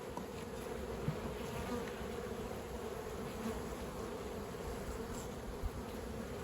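Honey bees swarm around a double-stacked hive box, a steady, close, continuous buzzing drone with occasional louder passes as individual bees fly near.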